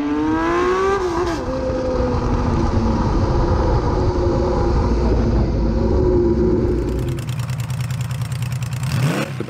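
A Honda CBX six-cylinder motorcycle engine revs loud and close, with a rising, screaming tone that climbs and settles into a sustained high-pitched howl before shifting near the end.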